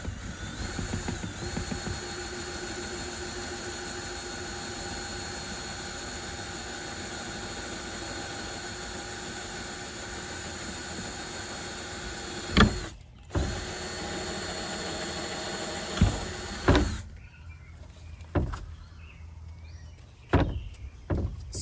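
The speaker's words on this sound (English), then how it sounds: "I'm gonna use this drill bit to drill a hole from the other side." Power drill bores a hole through a wooden fence panel, a steady, loud motorized whine running unbroken for about twelve seconds, then stopping and restarting in a few shorter bursts with clicks between.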